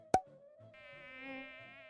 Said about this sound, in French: Ce n'est rien du tout, c'est juste un moustique.